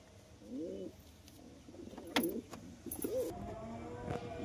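Red homer pigeons coo in low, rolling phrases, a few separate calls spread across the moment, close by and moderately loud over a faint background hum with a couple of brief clicks.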